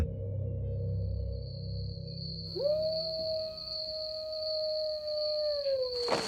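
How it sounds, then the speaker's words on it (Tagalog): A long, sustained eerie howl rises and holds a steady wavering pitch over a faint high whine, ending with an abrupt burst of noise. "Ayan na naman yung nakakakilabot na alulong, kuya."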